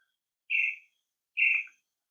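A pet bird gives two clear, bright chirps about a second apart, close by in a quiet room.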